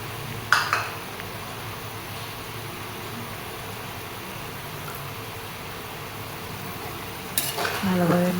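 Chicken bhuna and chopped onion fry in a pan with a steady, even sizzle, and a few clinks of the stirring spoon come near the start and the end.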